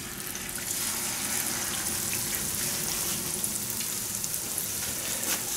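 Picarones, Peruvian dough rings, frying in hot oil over medium heat, a steady close hiss and sizzle with faint bubbling crackle running without pause.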